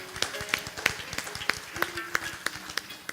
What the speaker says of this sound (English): Give them a wonderful round of applause, please.